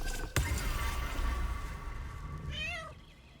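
A short rising meow from a cat in Baldur's Gate 3, heard near the end over a steady game-music backdrop that follows a sharp click.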